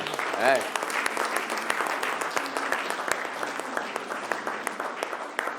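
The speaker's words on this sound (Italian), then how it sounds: "facciamo un applauso alla signora" Audience applause for a woman at an Italian sports-club event, a steady wash of clapping lasting several seconds at moderate level, with a voice briefly audible over it.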